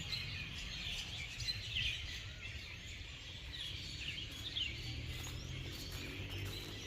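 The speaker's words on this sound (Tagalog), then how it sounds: "Ayan ang mga ibon." Birds chirp and tweet in scattered bursts over a low, steady background rumble, faint and somewhat distant.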